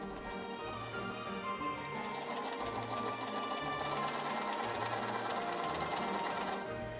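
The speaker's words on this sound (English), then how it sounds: "I then pivoted and reversed again before sewing along the sewing line I chalked in along the top edge" A sewing machine stitches a waistband for a Victorian ball gown along a chalked line, running in one continuous, steady, rapid whirr up close before stopping at the end.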